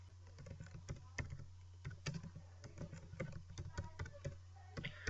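Close, rapid keystrokes on a computer keyboard as an address is typed, irregular clusters of taps over a steady low hum, with no talking.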